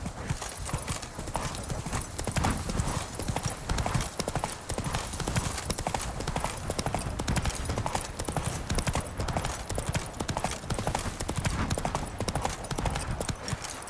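Geralt's horse Roach clip-clopping in The Witcher 3, a steady rhythmic run of hoof beats, near and fairly loud, continuing without pause throughout.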